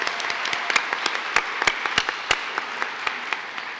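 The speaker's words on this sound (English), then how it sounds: "How about another round of applause for the dancers from the Legacies of the Pacific and Ke'aka Polynesia group" Audience applause for Polynesian dancers at a heritage awards evening, made up of crisp, separate handclaps with distinct loud close claps standing out over a thinner background of clapping, steady across the whole stretch.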